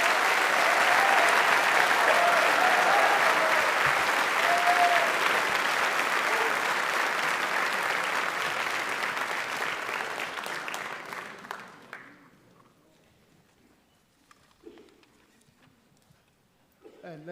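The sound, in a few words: applause for graduates at hooding ceremony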